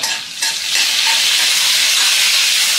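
Oil and butter heat in a pan for vegetable pulao, giving a steady, loud frying sizzle with a bright hissing texture that holds evenly throughout, after a brief softer start.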